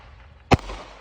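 A Fourth of July fireworks mortar launching: a single sharp, loud thump-crack stands out against a quiet outdoor background, followed by a brief fading rumble.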